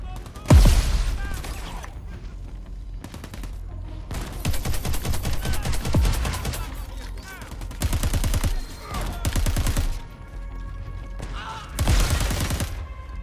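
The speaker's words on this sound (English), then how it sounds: "Why the fuck have I got a machine gun?" Bursts of automatic machine gun fire in Crackdown 3 co-op play, rapid volleys in several separate rattling bursts with loud booms, a faint voice in the background.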